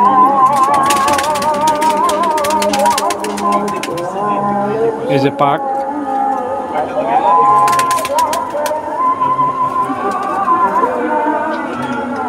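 A male dabla pigeon coos in repeated rolling, wavering phrases close by, while someone talks over it throughout.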